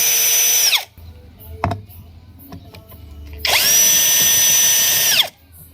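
Cordless power driver backing out two Phillips screws from a car's side-mirror control console, with two loud whirring bursts of a few seconds each, separated by quieter handling and a brief clunk.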